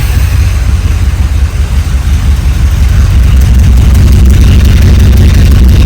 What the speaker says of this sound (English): Such a great running engine.